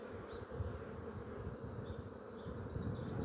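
Drone honeybees swarm densely around a stacked hive fitted with a queen excluder, a steady, close, continuous buzz filling the whole stretch with no voices.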